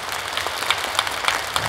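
Studio audience applauding at a televised masked singing competition show, a steady wash of clapping hands at moderate level, continuous and alone.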